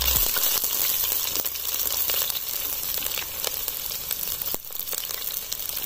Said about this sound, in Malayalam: ഇനി നമുക്ക് ചുവന്നുള്ളി അരിഞ്ഞ് ഇട്ട് കൊടുക്കാം.